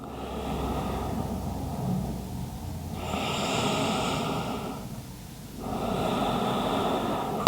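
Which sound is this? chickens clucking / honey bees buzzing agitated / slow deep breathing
slow deep breathing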